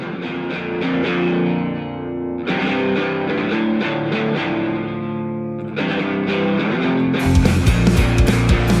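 A mixed rock track plays with a lush studio reverb effect, chords sustaining and ringing out in a washed, spacious tail, with a heavier, denser section kicking in near the end.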